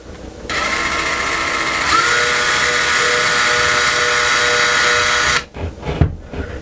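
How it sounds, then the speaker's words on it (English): A power drill bores a small hole into a wall beside a toilet paper holder, whining loud and steady for about five seconds, then stopping with a few brief clunks. "we're going to drill a small little hole right there as well, and we'll see if we hit a stud"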